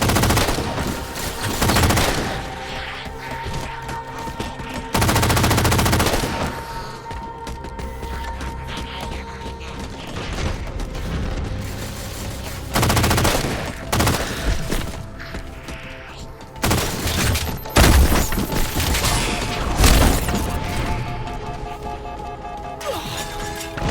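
Heavy gunfire and explosive crashes in Halo 4 aboard a gondola, with repeated bursts and loud impacts over a dense game score.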